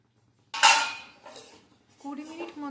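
A spoon scrapes and clinks against a pot while chicken stew with beans is stirred, a few short metallic knocks and scrapes in a quiet kitchen.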